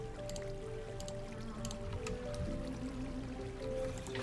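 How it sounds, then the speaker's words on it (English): In a Minecraft world, a water bucket is emptied and water flows, with faint dripping and squishy trickling over a constant low background and scattered short bright plinks, no voices. "So, water bucket in the corner."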